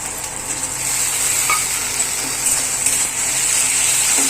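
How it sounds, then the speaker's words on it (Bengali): Chopped onion and garlic frying in a pan on a home stove, giving a steady, even sizzle and hiss throughout, with a couple of faint utensil clinks and no talking. "পেঁয়াজটা ভাজা ভাজা হয়ে গেছে, এবার রসুন দিয়ে দেবো, দিয়ে এটাও একটু ভাজা ভাজা করে নেবো"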